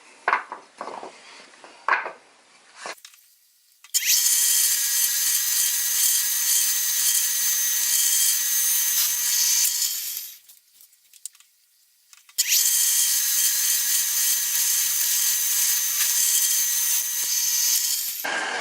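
A bench drill press runs in two long, loud, steady whining stretches as it drills through existing holes in a replacement work surface, with brief clunks and quiet gaps around them.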